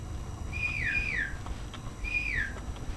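A person whistles two short rising-and-falling phrases, spaced about a second apart, faint over a steady background hum, in an eerie indoor setting.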